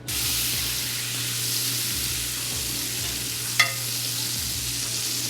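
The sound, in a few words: butter sizzling as it browns in a pan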